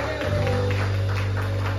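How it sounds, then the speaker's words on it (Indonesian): Church congregation applauding in a worship hall, a brief burst of steady clapping over a sustained low hum from the sound system. "Tepuk tangan buat kita"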